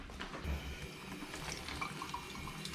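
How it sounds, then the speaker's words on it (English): Running water splashing into a sink at low volume, with a steady gurgling flow and occasional small drips and clinks. "And then we have to rinse it with water."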